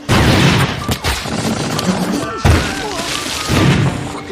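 A loud, heavy grenade blast booms close by, followed by crashing debris and a second thudding impact amid chaotic battle noise in a war film.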